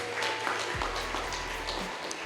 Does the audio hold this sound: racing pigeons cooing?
no